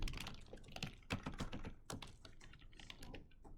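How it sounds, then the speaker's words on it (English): Rapid typing on a computer keyboard during a programming class, with dense, continuous clatter of keystrokes and a few heavier thunks, moderately close and with no talking. "You're a very fast typer, Zeke."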